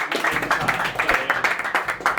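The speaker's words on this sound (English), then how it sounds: "round of applause for the 3 young'uns filling in today" A small amateur football team claps together for three young fill-in players, uneven close-up hand claps with a few loud peaks, nearby and unaccompanied.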